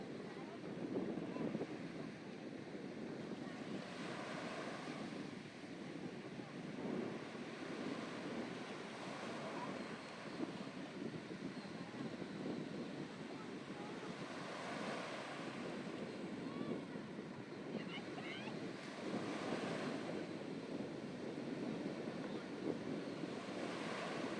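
Strong sea waves surging and breaking continuously at a beach, a broad steady wash of surf with gusts of wind buffeting the microphone, no voices heard.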